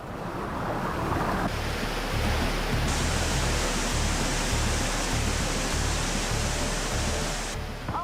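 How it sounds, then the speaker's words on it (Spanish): Floodwater rushes hard against a one-tonne car tied in place and shoves it backwards, a loud, continuous, close roar of churning water that never lets up. "Fijaos en la fuerza que tiene el agua que empuja el coche hacia atrás"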